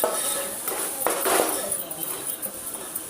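A spoon clinks against a pan while veg noodles masala is stirred in, giving a few light metallic taps over a sizzling kitchen background, with a voice talking.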